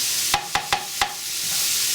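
Onions frying in a pan for jjajangmyeon, with four sharp scraping strokes of a utensil pushing them aside over a soft continuous sizzle.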